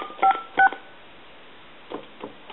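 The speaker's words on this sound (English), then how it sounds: "Let's dial." An AT&T 5500 cordless telephone sounds two short, clear dialing tone beeps close together, followed by faint clicks of button presses.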